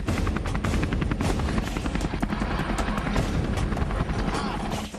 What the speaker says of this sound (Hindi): सर्जिकल स्ट्राइक का सूरमा अपाचे हेलीकॉप्टर आसमान का घातक शिकारी है।